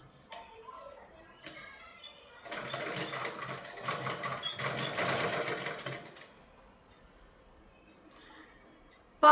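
Sewing machine stitching plazo pants in one steady run of several seconds, with quieter handling sounds before and after it.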